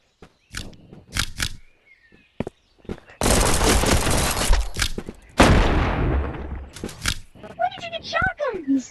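Shotgun fire in a multiplayer video game arena lands as a loud burst of crunching blasts after scattered short hits, with players talking and exclaiming around it.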